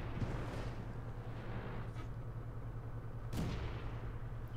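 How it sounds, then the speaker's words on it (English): A tank cannon shot in World of Tanks, heard as a few dull booms at moderate distance over a steady engine drone, with one sharper report near the end. "Taking a blind shot there."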